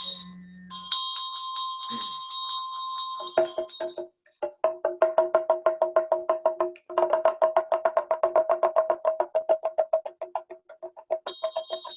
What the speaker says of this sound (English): Invocation now with bell